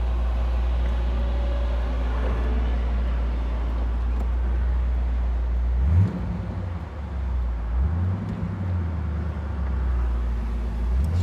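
A 1968 Pontiac GTO convertible accelerating hard on a road through its four-speed gears, a deep loud engine roar that drops abruptly at a gear change, then climbs again with rising pitch sweeps.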